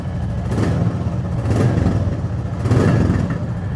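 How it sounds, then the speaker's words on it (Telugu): A 2024 Royal Enfield Classic 350 motorcycle idles steadily up close, its exhaust note a low, throbbing rumble that swells slightly in a few slow pulses. "ఎగ్జాస్ట్ నోట్ అయితే విన్నారు కదా"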